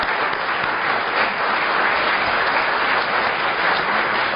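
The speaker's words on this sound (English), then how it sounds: "a big round of applause" Sustained applause from a large conference audience, dense and steady clapping throughout with no voices standing out.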